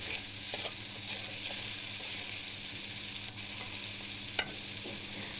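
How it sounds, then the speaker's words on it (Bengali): Spices and green chilies for a fish curry with pea greens fry in a pan while being stirred, a constant close sizzle with occasional spoon scrapes and taps against the pan, moderately loud and with no speech. "তো এগুলোই আমি এখন সুন্দর করে কষিয়ে নিব"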